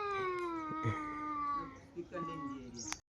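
A cat meows in a long, wavering cry that falls in pitch, repeated in short bursts across three seconds at a village Uttarayan kite-festival gathering, with voices talking nearby.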